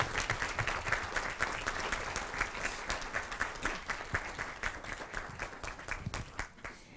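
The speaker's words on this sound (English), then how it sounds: "Let's give all of our Dodge students a round of applause." A crowd claps steadily for several seconds for students at a Board of Education meeting, a dense patter of many hands that gradually thins and fades toward the end.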